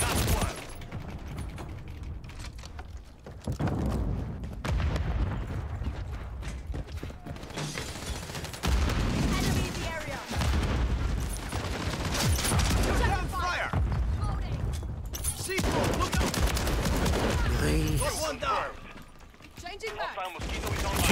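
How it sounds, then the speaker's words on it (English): Heavy gunfire in Call of Duty Modern Warfare III: dense, overlapping bursts and clattering weapon mechanics fill a loud, busy mix almost without pause. "Where am I getting shot from?"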